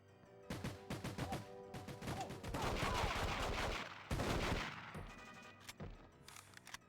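Rapid bursts of gunfire ring out in a first-person shooter on the N64, volleys of shots piling into a dense, loud barrage with crashing impacts, then trailing off into scattered reports.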